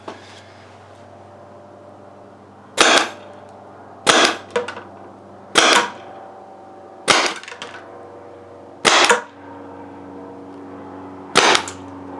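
TechT MRT Bolt air gun fitted with a low pressure kit fires six sharp, loud shots spaced about one to one and a half seconds apart, each a crisp pop with a short metallic tail, over quiet background.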